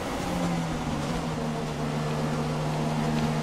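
A Formula 1 car engine in the F1 2016 racing game, a steady droning hum with a sustained tone wavering slightly in pitch, continuous and moderately quiet.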